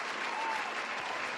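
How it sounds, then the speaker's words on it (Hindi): Applause fills a festival pandal in an audio drama, a dense, continuous wash of many hands clapping at once, loud and unbroken for the whole moment. "पंडाल तालियों के शोर से गूंज उठा।"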